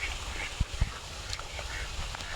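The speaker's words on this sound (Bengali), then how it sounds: "হাঁস" A duck quacks twice in quick low honks outdoors amid wind noise, followed by faint scattered calls in the background.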